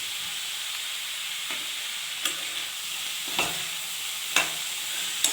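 Fried potatoes, green chillies and green peas are stirred in a pan over a steady sizzle, with a few sharp scraping clacks of the spoon against the metal at irregular intervals.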